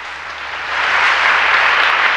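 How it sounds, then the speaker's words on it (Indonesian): A church congregation claps steadily during a sermon, the applause swelling after a moment into a dense, sustained wash of hand claps with no voices over it. "tepuk tangan buat Tuhan"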